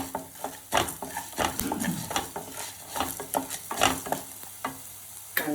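Fenugreek and pepper are dry-roasted and stirred in a pan for puliyodharai spice powder, with close scraping stirs and light crackling sizzle repeating irregularly at a moderate volume.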